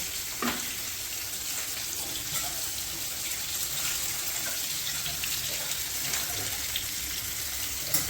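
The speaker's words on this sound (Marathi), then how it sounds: "हे दोन मस्त रवा लावून फ्राय होत आहेत मासे." Steady, bright sizzling of surmai fish coated in semolina frying in hot oil, continuous crackle with occasional small pops, close by and without talk.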